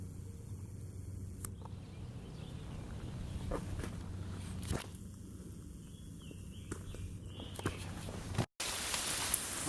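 Rain patters steadily on a surface throughout, with scattered drips and rustling footsteps; one brief dropout near the end.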